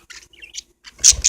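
Pet parakeets interacting, giving short scattered chirps and high squeaky calls, then a louder burst of chattering tweets near the end, close and clear with no talk.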